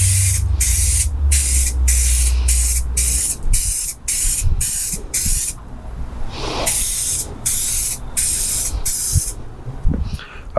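Spray can hissing in repeated short bursts as a first coat is dusted onto a 1/10 scale RC crawler body, loud and close, with brief pauses between passes and a low rumble early on.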